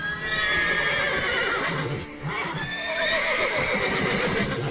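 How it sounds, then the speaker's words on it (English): Horses neigh and whinny repeatedly over a steady clatter of hooves, loud and close, with no talking, in the video game The Witcher 3: Wild Hunt. "Call the horses before they wake the guards."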